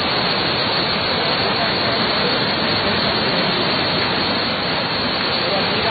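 Strong floodwater rushes during heavy rain, a dense, loud and unbroken roar that stays constant throughout with no pauses.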